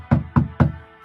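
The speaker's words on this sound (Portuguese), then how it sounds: "Aí bate lá nos portões celestiais." Three firm knocks on a door come in quick, even succession, loud and close, followed by silence.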